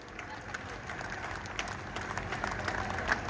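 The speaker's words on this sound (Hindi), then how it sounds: "सारे कार्यकर्ता मिलकर के जोरदार तालियों से आपका अभिनंदन करें।" Party workers applauding at an office inauguration ceremony, a steady wash of distant crowd clapping at moderate level with a faint murmur of voices beneath.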